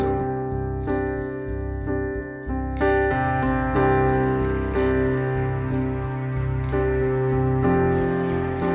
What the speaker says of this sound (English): a song like this, it needs some tambourine